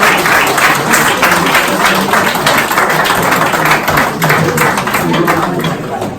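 Sustained loud applause from the audience at a public meeting about saving a local hospital, many hands clapping densely and evenly, close and continuous.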